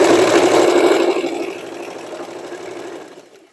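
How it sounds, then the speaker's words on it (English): A sewing machine top stitching along the edge of a dress made from sweatshirt and denim scraps, loud close motor whir that slows and fades toward the end, no voices. "I will make a top stitching here on the edge"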